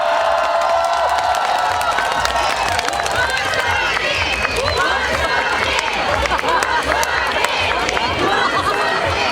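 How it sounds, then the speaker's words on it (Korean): A large outdoor festival crowd in Uiryeong claps and cheers for the county governor, a dense continuous wash of applause and voices lasting the whole stretch. "군수님께 큰 박수 한 번만 부탁드리겠습니다."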